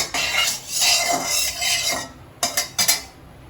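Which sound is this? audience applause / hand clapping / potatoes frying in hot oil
potatoes frying in hot oil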